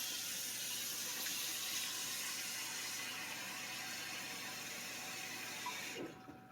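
Hot water runs from a kitchen tap into a baking pan in a steady, hissing stream that carries on for several seconds, then cuts off sharply near the end.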